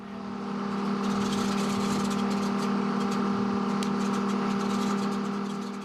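Engines of Miss Montana, a rebuilt vintage plane, running in a loud, steady droning hum with a strong tonal throb and no talking.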